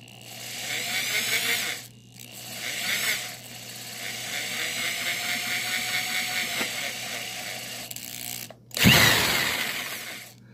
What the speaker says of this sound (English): the first thing you're going to drill through is the plate, the face plate.